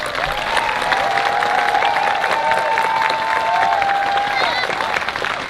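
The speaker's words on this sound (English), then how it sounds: "I'd like to have a final round of applause for America's newest citizens." Crowd applause for America's newest citizens at an outdoor July 4 naturalization ceremony at Mount Vernon, steady clapping with some cheering, and a sustained sung or held voice-like tone rising above it midway.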